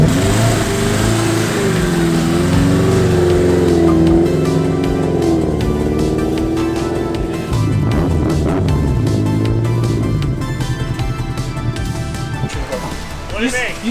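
High-compression K-series engine swapped into a Nissan S13, revving hard up close with rising and falling pitch through sustained pulls, then settling to a rough idle, with voices talking over it.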